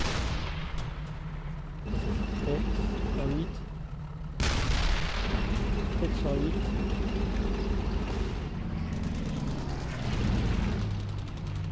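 Repeated heavy booms of cannon fire rumble through a busy soundscape in the video game Brothers In Arms: Hell's Highway, with someone talking over the blasts throughout.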